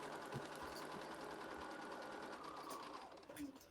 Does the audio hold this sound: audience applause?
no